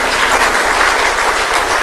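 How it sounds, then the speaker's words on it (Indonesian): A crowd applauds guest Hadi Cahyanto at a formal Indonesian gathering, giving a loud, dense and continuous burst of clapping with no gaps. "Tepuk tangan untuk beliau sekali lagi"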